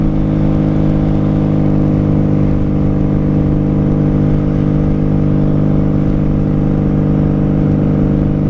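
A 1995 motorcycle fitted with Jardine pipes pulls in fifth gear, a loud, close, steady engine drone with a strong low rumble that holds level and unbroken throughout, with no voices.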